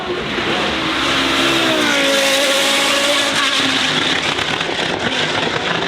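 A hypercar, one developed by Formula 1 champion Mika Hakkinen, roars across a race finish line, a loud sustained engine howl with rising and falling pitch sweeps as it passes close by, no voices.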